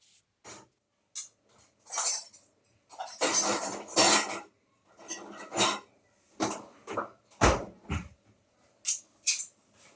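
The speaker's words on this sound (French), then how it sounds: "elles n'aiment pas trop cette histoire-là de vider le lave-vaisselle" Dishes and cutlery clink and clatter as a dishwasher is emptied in a home kitchen, with a long run of irregular, close knocks and rattles separated by brief quiet gaps.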